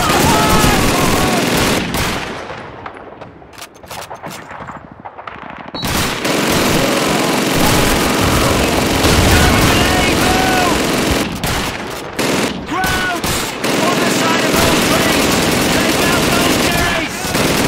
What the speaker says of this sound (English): Sergeant Davis, get on the German machine gun!